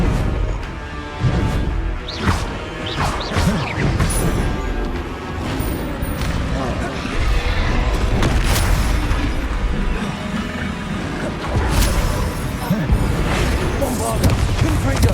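Repeated Confringo and Bombarda spell blasts from the Hogwarts Legacy video game, a dense run of booming explosive bursts and crashes with shouted spell incantations over them throughout.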